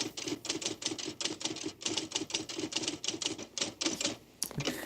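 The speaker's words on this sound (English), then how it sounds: "This typewriter is typing la la la la la la." A typewriter clacks quickly and evenly, a long run of sharp key strikes close by, with a slight pause and a final heavier clunk near the end; no talking.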